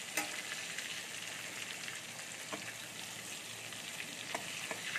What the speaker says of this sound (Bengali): এবার ওই পটলগুলো আমি উল্টে নিচ্ছি একটু, একটু লাল হয়ে গেছে।